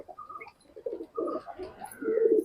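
Young pigeon chicks in a loft make soft cooing and squeaky calls while being blow-fed, with short close-up bursts and no talk.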